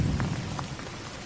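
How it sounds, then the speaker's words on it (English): Steady rain falling outdoors, a dense continuous hiss with scattered droplet taps and a low rumbling undertone, close and fairly loud with no voices. "Okay, so here comes the rain,"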